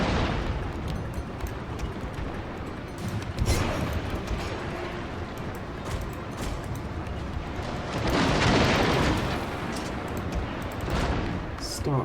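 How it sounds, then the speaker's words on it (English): Naval cannon broadsides in the Total War: Shogun 2 strategy game, a dense continuous rumble of booming volleys with louder swells, heard under talk. "let's get these shots going, shall we? Alright. Full broadsides."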